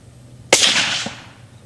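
A single sharp .280 Ackley rifle shot firing a 145-grain Barnes LRX load outdoors in warm, humid air, a loud close crack with a short decaying tail.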